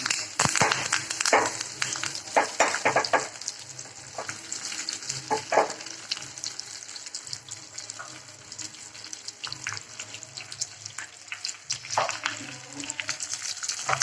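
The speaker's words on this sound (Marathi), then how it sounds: "आता हे चांगलं परतून आल्यावर ह्याच्यावर कढीपाला टाकतो" Curry leaves in hot oil for a tempering give a moderate, crackly sizzle with irregular spits and pops, alongside scrapes of stirring, close by throughout.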